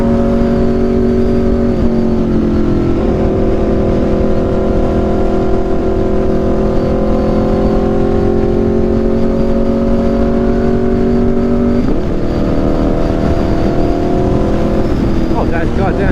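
An Aprilia RSV4 motorcycle fitted with an SC-Project CRT exhaust holds a steady, loud engine drone with a few shifts in pitch, heard close up on a short rainy ride while people talk over it.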